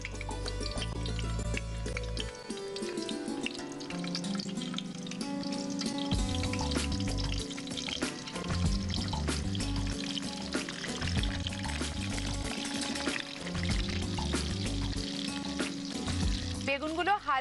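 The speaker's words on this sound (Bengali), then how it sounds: "তেলটা গরম হয়ে গেছে বলে আমি বেগুনগুলো আস্তে আস্তে দিয়ে দিলাম।" Eggplant slices lightly salted and frying in hot oil give a steady crackling sizzle with occasional stirring, playing under rhythmic background music.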